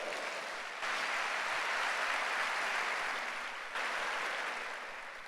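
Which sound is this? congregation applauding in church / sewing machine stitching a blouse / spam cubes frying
congregation applauding in church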